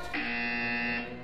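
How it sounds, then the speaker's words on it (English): A steady electronic warning beep from a game's reactor alarm, one sustained tone about a second long, loud and alone. "Beep."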